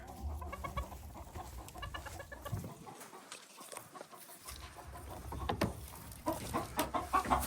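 Roosters and chickens cluck in a coop, with repeated close, busy clucks and calls that briefly drop away before growing louder and denser again.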